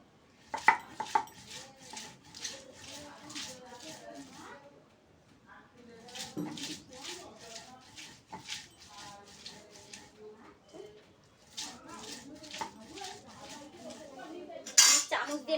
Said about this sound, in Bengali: আমি এইভাবে ঘ্যাটকলগুলো বেটে নেব